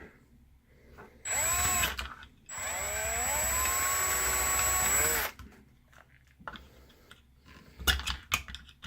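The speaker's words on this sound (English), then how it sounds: "I got to make a little notch or a little hole in this side to bring them through" A power drill bores a small hole in the side of a plastic solar walkway motion light, in two loud whining bursts of about a second and three seconds. Quieter handling clicks and knocks come before and after.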